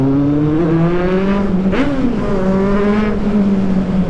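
A motorcycle engine revs and shifts pitch continuously, its sound ringing back off closely packed houses along a narrow street, loud and close throughout.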